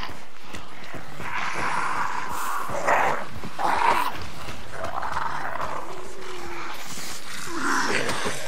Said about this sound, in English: Dog, dog, dog.